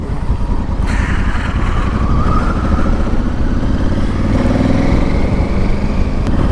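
A modified Honda Africa Twin motorcycle is ridden along, its engine a steady, loud, low rumble mixed with wind noise and road clatter throughout.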